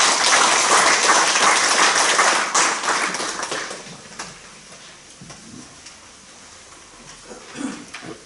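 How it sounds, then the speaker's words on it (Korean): An audience at a Korean Cheondogyo gathering applauds to welcome a speaker; loud massed clapping for about three seconds that fades into sparse scattered claps and rustle, with faint voices near the end. "박수로 환영해 주시기 바랍니다."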